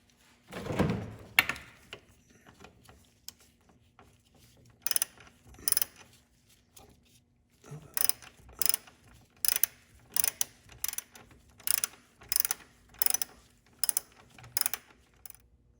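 Ratchet wrench tightening a bolt on a Mazda Miata radiator bracket: bursts of quick clicking strokes, a couple of short runs, then a pause and a steady series of rhythmic ratcheting pulls, close and moderately loud.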